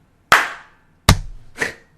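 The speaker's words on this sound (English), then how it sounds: "Single clap." Sharp hand claps used as a sync marker, three loud, distinct smacks spaced under a second apart in a quiet room, the second carrying a low thump.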